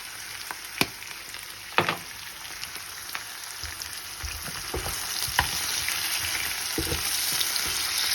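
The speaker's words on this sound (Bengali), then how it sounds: "একটু আলুটাকে ভেজে নিলাম পেঁয়াজের সাথে" Boiled potatoes frying with onions and turmeric in a pan make a continuous close sizzle, broken by a few sharp clicks and scrapes of a stirring utensil.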